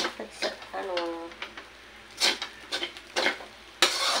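Fried rice being stirred in a hot pan with shrimp set aside for topping, a utensil scraping and clattering against the metal in bursts over a steady sizzle, with a voice speaking in between.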